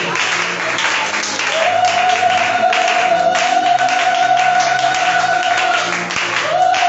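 A church congregation applauds and cheers in a loud, continuous wash of clapping and voices, with a sustained tone running underneath.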